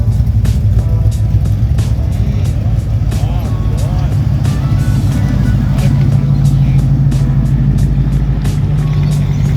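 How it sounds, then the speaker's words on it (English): Classic Ford cars, including a Falcon and a Mustang, roll into an outdoor car show with a steady low engine rumble and idling, plus scattered clicks and background noise throughout. "Some beautiful Fords rolling in,"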